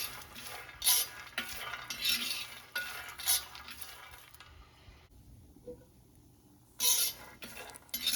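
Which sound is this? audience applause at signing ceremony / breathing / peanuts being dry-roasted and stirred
peanuts being dry-roasted and stirred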